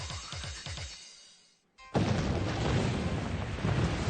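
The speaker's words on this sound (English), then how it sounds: "Explosions." A sudden explosion, shown as an example of pressure released violently, bursts in after a brief near-silence and becomes a loud, sustained roaring rumble. Lower booming sweeps come before it.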